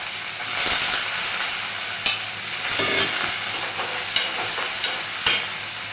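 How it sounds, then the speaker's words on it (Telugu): Capsicum and tomato sizzle steadily in a pan, with a few sharp scraping stirs standing out over the constant frying hiss; close and moderately quiet, with no talking. "నేనైతే క్యాప్సికమ్ టమాటా వండుతున్నాను."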